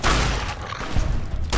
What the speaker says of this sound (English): Well, it's shotgun time.